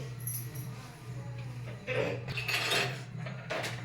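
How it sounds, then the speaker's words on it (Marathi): A kadhai is set on a home kitchen stove to heat oil. A few metallic knocks and clinks of cookware ring out over a steady low hum, with a louder clatter partway through. "आता आपण कढई गरम करायला ठेवूया।"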